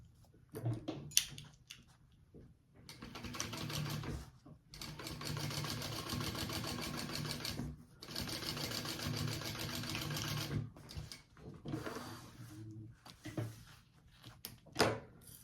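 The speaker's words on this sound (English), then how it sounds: "now we're going to sew that on at our full seam allowance" A sewing machine runs a seam on a fabric sling in several bursts of steady mechanical whirring, separated by pauses filled with clicks and handling noises, with a voice talking quietly in places.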